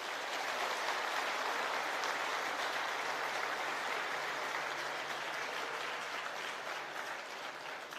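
Crowd clapping at an Aam Aadmi Party office-bearers' oath ceremony in Hisar, a steady, even wash of applause lasting the full eight seconds, heard at a slight distance and fairly soft.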